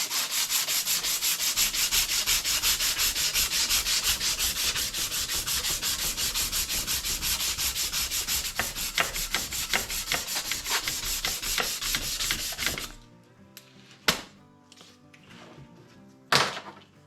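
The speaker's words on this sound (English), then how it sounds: "I'm going to put some emery cloth on that. So it's just some plumber's emery cloth." Plumber's emery cloth rubs briskly over a trailer tongue jack in a loud, continuous rasping scrub, then stops, leaving a few scattered knocks and clunks.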